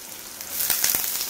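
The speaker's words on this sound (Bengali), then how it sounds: "এখানে বেগুন ভাজা হচ্ছে" Slices of brinjal (eggplant) fry in hot oil in a home kitchen, giving a soft, steady sizzle that swells slightly with a few crackling spits partway through.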